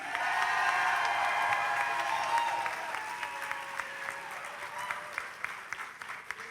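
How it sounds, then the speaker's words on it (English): A graduation crowd applauds a senior with a dense wash of clapping, loud at first and then thinning into scattered separate claps toward the end. "Give a round of applause to Miles Morton."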